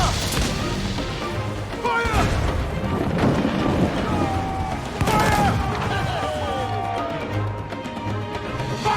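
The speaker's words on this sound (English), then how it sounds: "That storm straight from hell!" A thunderstorm at sea in Assassin's Creed: Freedom Cry, with heavy rain, rolling thunder and crashing booms in a continuous loud wash, while voices shout over it.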